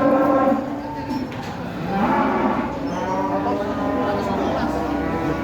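Jumbo cattle at a livestock market in Kediri, one moo rising and falling in a long, loud, harmonic low call that carries across the whole stretch, with faint background voices.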